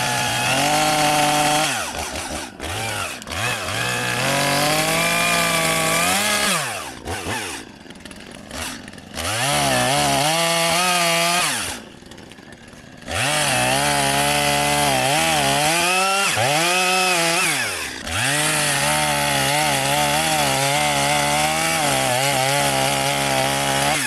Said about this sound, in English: So I've got the chainsaw up here, got my safety equipment,